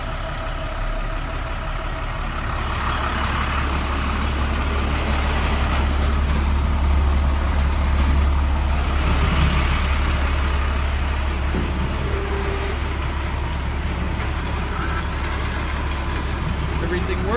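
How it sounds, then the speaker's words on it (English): A salt spreader runs on a 2007 International 4300 DT466 salt truck, heard as a steady, close, continuous engine and hydraulic drone with a deep low rumble and no breaks. "I could show you the salt spreader is working"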